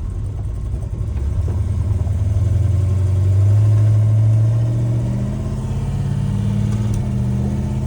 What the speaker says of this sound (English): A very small car, very big engine, just the way that God intended.